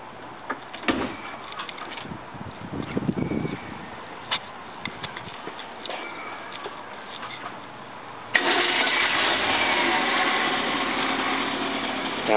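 After a few soft clunks and handling noises, the engine of a 1965 Lincoln Continental turns over and settles into a steady, even idle heard from nearby.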